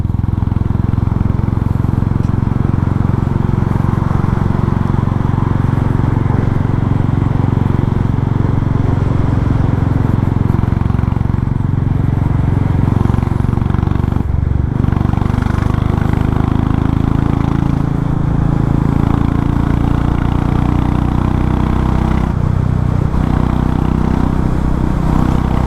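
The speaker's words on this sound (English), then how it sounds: "I guess a bike should be at least this loud, if not louder." Royal Enfield Meteor 350 motorcycle idling and revving with its catalytic converter removed and a straight-pipe exhaust, giving a loud, steady, thumpy rumble that fills the whole clip close up without pause.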